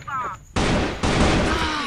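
Gunfire in a shooting video game: sharp bursts of loud, dense shots cut in after a brief lead-in, with two sudden onsets and continuous crackling fire following.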